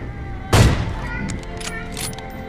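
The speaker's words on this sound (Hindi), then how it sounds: "मैं इसको एक और AWM का एक शॉट देता हूँ" A single loud, sharp gunshot from an AWM sniper rifle in a video game, with a heavy boom that trails off into a fading tail and low background game ambience.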